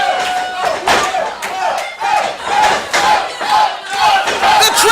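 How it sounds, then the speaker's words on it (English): A wrestling arena crowd at a Christmas Rumble show cheers loudly in rhythmic swells of about one per second, like a chant, with occasional thumps beneath the roar. "The crowd getting behind the Big O."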